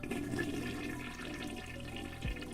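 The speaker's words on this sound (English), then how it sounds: "I jump at the sound of a running shower." A running shower sound effect in the visual novel game Steins;Gate: a steady, soft rush of spraying water with faint background tones, holding evenly throughout.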